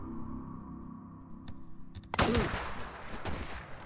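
Gunshots in the open-world zombie game Days Gone: a few sharp cracks, then a loud burst of fire with a ringing, echoing tail and further scattered shots after, over a low background hum.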